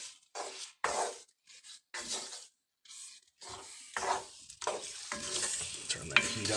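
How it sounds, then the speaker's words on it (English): Shrimp cooked in hot oil and roux for gumbo, heard as close stirring and scraping in bursts with a light sizzle building underneath and becoming steadier toward the end. "I'll cook that shrimp right in that oil and right in that roux."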